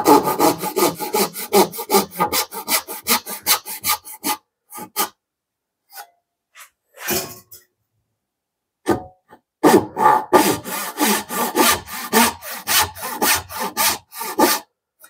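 A hand saw cuts through maple in a vise while a desk drawer is built: rapid, even rasping strokes close up, a pause with a few scattered scrapes, then a second burst of steady sawing.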